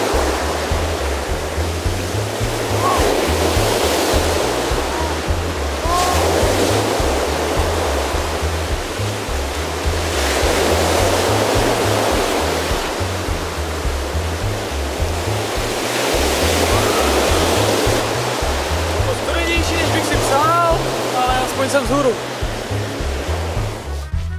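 Sea waves wash onto the shore in loud, steady surges that swell and fade every few seconds, with a broad rushing roar filling the whole stretch, heard during a bicycle trip.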